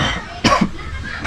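A single sharp cough from someone who has been smoking a cigarette, close and fairly loud, standing out briefly against a quiet indoor background.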